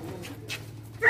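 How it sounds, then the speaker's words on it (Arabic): A dog whimpers in short, soft, high whines, with a brief louder yip at the very end, heard close with no talking. "كلبه دي اللي احنا كنا بنطلعها عشان الفراخ"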